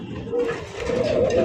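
Pigeons coo softly and repeatedly at close range in a pigeon loft where birds are kept for sale, a low throaty murmur rising in the second half.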